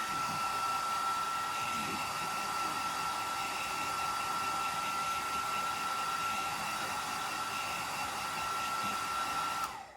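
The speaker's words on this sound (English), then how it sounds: "I'm just going to get my hairdryer" A hair dryer roars steadily at close range with a constant whine, running nonstop for about ten seconds before cutting off abruptly at the end.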